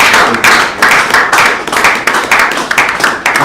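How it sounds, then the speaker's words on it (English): A crowd at a diploma graduation ceremony claps in steady, loud applause, bursts of hand claps rising and falling together for several seconds without speech over it. "give a round of applause to our God"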